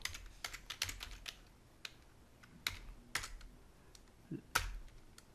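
Irregular clicks of a computer keyboard being typed on close by while code is written for an AVR 128 LCD project, keystrokes coming in quick clusters and single taps with no talk.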